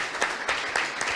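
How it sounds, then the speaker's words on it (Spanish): A small audience gives a short, moderately loud round of applause for Víctor Cortizo after his talk on business with China, steady clapping with no talk. "Un fuerte aplauso para Víctor."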